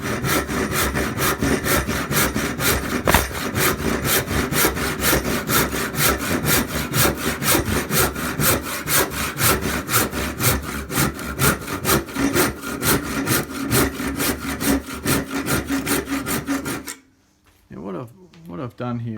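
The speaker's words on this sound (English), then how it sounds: "So I've got this just 10-point handsaw," A 10-point handsaw cuts through wood for a new hammer handle in fast, even back-and-forth strokes, close and steady for about seventeen seconds before stopping, after which someone speaks.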